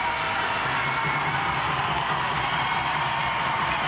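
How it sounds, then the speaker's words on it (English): A steady wash of crowd cheering at a Sheffield Steelers ice hockey game, sustained and loud across the arena. "Biggest cheer of the night at the time was for Spencer, who is certainly a crowd favourite."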